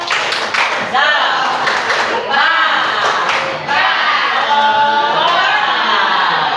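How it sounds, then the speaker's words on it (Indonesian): Audience applause for a group of schoolchildren at a class presentation, a steady, dense clapping wash with children's and adults' voices talking over it throughout. "Kita beri tepuk tangan untuk kelompok."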